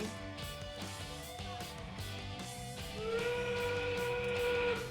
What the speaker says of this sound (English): there's our whistle indicating endgame for these robots